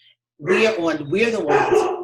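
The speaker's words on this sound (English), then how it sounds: "that's my dog" A pet dog named Sapphire barks and yips close by during a home video call, several short barks overlapping a voice as she speaks.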